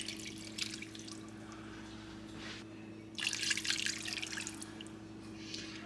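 Water from a tap runs and splashes into a cooking pot in a home kitchen, a steady trickle that swells into a louder, fuller pour partway through, with no voices.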